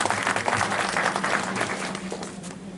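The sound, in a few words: applause for Lions Club members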